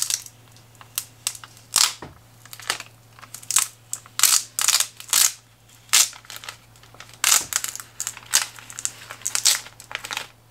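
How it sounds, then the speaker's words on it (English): Transfer tape on a Cricut vinyl project being peeled and rolled off, a series of sharp crinkling, crackling tears in short repeated bursts, close and loud over a quiet low hum. "And then again, we can just roll our transfer tape off."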